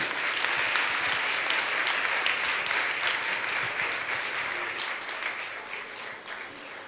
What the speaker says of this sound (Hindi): ताली तो बजाइए आप लोग